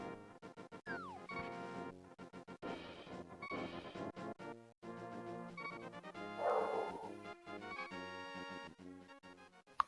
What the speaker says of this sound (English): there is a dog in the background going slightly crazy